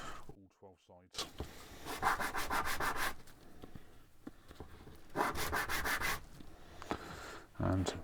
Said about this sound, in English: put a piece of sandpaper down on a flat board, just gently sand over all